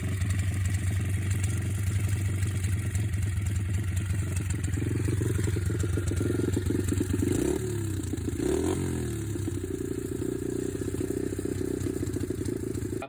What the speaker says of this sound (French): Je trouve que le moteur tourne plutôt bien